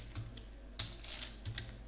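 Code being typed on a computer keyboard, a few quick soft key clicks up close, with no talk.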